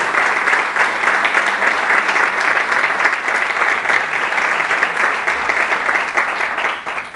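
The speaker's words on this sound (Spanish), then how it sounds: "os pediría un aplauso en su memoria" Audience at a lecture on neurodegenerative diseases applauding in memory of a deceased researcher, a loud, sustained, even roar of many hands clapping that continues throughout without speech.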